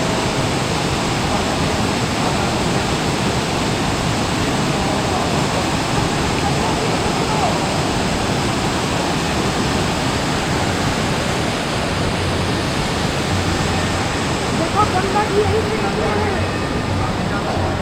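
The Ganga river runs fast and swollen after heavy rain at Gangotri, a steady, dense roar of rushing water that stays loud and unbroken throughout, with no speech over it.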